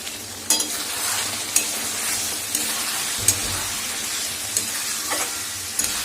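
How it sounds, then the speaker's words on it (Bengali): Spices for egg curry frying and being worked in a pan with green chillies, a steady close sizzle with occasional sharp taps of the utensil against the pan, no talk. "দেব ডিমের ঝোলের মশলাটাও কষাচ্ছি।"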